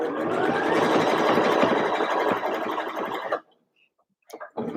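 A sewing machine stitches a sweater in a fast, steady whirring run for about three seconds, then stops abruptly into near silence before a brief rustle.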